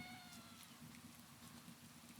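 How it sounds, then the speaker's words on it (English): A soft cat meow, faint and brief, rises over a steady hiss of rain-like ambience in a game soundscape. "it's a cute little meow"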